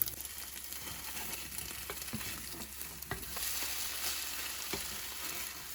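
Food fries and browns in a pan, a soft steady sizzle with occasional faint ticks and pops, quiet and close with no talking.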